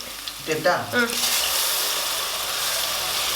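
Ginger garlic paste and green chillies frying in a pan for veg salna, a brief stir and clatter at first, then a loud, steady sizzle that fills the rest of the clip.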